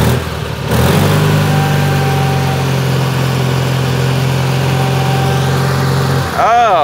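Old UTV engine running steadily while the vehicle drives through a lake, a loud, even mid-pitched drone that holds without revving for most of the stretch, with a brief shift near the end.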